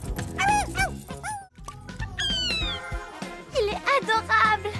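Yappy barks and whiny, rising yelps from a dog, fairly close and loud, with a short pause near the middle, in an animated cartoon.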